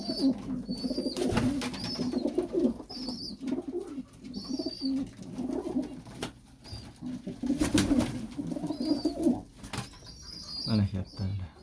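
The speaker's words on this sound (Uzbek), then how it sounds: "Bu anjon urug' kaptar, mana tayyor chiroyli par bo'lgan bir xilda." Andijan breed pigeons coo in low, repeated rolling calls, near and fairly quiet, with occasional wing flaps and someone talking at intervals.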